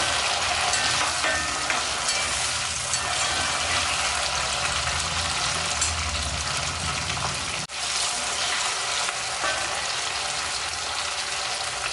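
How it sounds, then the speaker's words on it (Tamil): Small shallots sauté in oil for a Chettinad brinjal kuzhambu, giving a steady, loud, close frying sizzle. It runs almost unbroken, with one brief dip partway through. "இப்போ சின்ன வெங்காயத்தையும் போட்டுருவோம் வெங்காயம் போட்டு நல்லா எண்ணெயிலே நல்லா வதங்கட்டும்"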